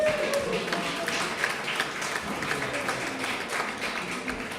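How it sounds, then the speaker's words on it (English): An audience at a progressive party's town meeting day nominating caucus claps steadily, a close, dense patter of many hands continuing without pause. "So let's give them a round of applause."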